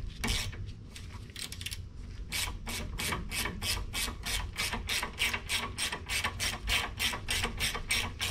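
A ratchet drives out a shock bolt on a 2011 Lincoln MKS, giving fast, sharp metallic clicks in irregular bursts at first, then a steady rapid train of close clicks with no talk over them.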